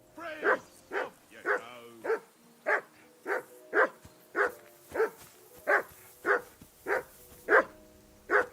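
A dog barks in the video game Kingdom Come: Deliverance II, about fifteen evenly spaced, fairly close barks repeating at a steady pace, one roughly every half second, with nothing else prominent.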